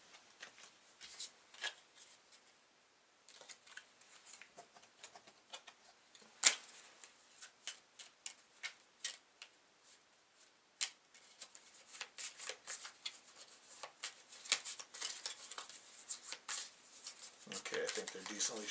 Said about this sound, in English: And we shuffle the cards back into the deck.